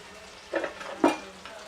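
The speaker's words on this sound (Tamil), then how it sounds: "கடுகு பொரிஞ்ச உடனே 200 கிராம் சின்ன வெங்காயம் போட்டுக்கிறேன்." Finely chopped small onions fry in oil after mustard seeds have popped, with a soft background sizzle and two brief louder bursts as they are stirred.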